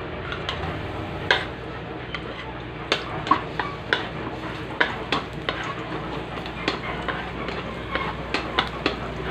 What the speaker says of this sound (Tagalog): gisain na natin itong spaghetti sardines